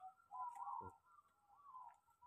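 A zebra dove (perkutut) gives its soft, rolling coo twice, each phrase lasting about half a second, clear against a quiet background with a faint tick.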